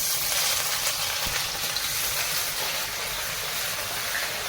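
Chopped onion dropped into hot oil with sugar and bay leaves for a Bengali mutton curry, giving a loud, dense, continuous sizzle that holds steady throughout without any talk.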